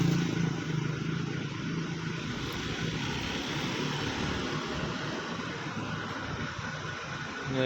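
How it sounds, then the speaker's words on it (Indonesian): Large engine rumbling steadily nearby as a cargo bus in Sumatra prepares to depart early in the morning, a continuous low drone with no voices. "Ya, ini mungkin bus kargo yang mau berangkat juga."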